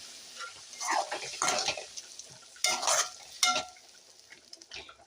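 Mutton frying in oil in a pan, stirred with a utensil: scraping, clinking stirs in uneven bursts over a soft sizzle, close up, no voices.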